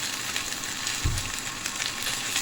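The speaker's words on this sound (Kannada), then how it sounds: "ಚಾಪ್ ಮಾಡಿರೋ ಆನಿಯನ್ಸ್ ಆ್ಯಂಡ್ ಚಿಲ್ಲೀಸ್ನ ಆ್ಯಡ್ ಮಾಡಿ ಸಾಟ್ ಮಾಡಿ" Chopped onions and chillies with ginger garlic paste sautéing in hot oil for masala Maggi noodles, a steady close hiss of frying with a brief low knock midway.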